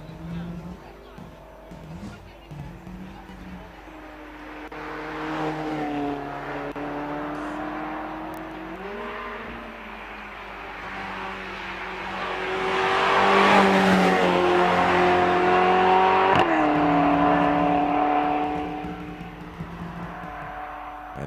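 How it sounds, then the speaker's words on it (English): A Ferrari California at a motor festival, heard as an engine rising and falling through the gears as it pulls away and passes, with the sound building to a peak and fading under steady commentary. "And there goes the Ferrari California."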